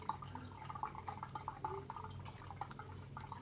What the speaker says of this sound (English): this validates that the siphon is installed correctly and it can drain the grow bed